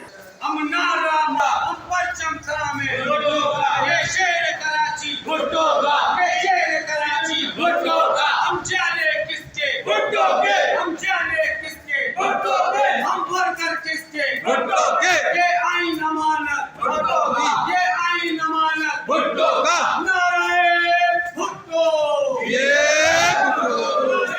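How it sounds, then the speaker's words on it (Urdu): A crowd of municipal labor union workers in Karachi chants slogans loudly, a leader's shouted lines answered by group yells in a repeating call-and-response rhythm. "وہیں نعرے بازی بھی کی۔ ہم سنوا دیتے ہیں"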